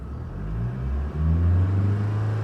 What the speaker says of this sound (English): I'll just give it a bit of rev so you can have a listen.